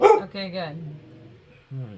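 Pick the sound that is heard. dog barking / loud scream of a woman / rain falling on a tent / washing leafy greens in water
dog barking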